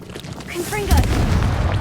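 Confringo spell blast in Hogwarts Legacy, a single booming burst that swells and rumbles on for over a second, loud and close, with a voice shouting just before it.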